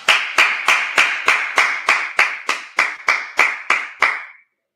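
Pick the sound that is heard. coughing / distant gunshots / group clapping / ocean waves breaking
group clapping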